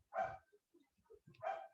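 A dog barks twice, about a second apart, each a short sharp woof, fairly faint and somewhat distant, with quiet rustling between the barks.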